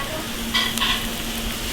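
Thin fish slices for Sichuan boiled fish slipping into a hot wok over low heat, a soft sizzle with a couple of brief scraping touches, close and steady with no talk.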